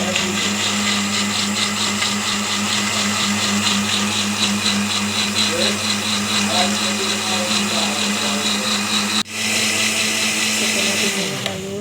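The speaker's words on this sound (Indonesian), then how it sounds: "Jangan lupa colok ke start kontaknya, hidupkan bumbunya, tunggu sampai bumbunya halus teman-teman." An electric blender grinds spice paste for Acehnese tumis ikan, a fish stir-fry, with a loud, continuous, high whirring motor drone that briefly dips near the end before running steadily again.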